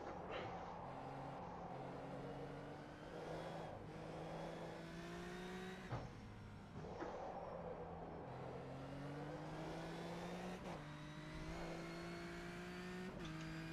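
A GT4 race car engine in a racing video game drones steadily, its revs climbing and dropping with repeated gear shifts, loud and continuous throughout.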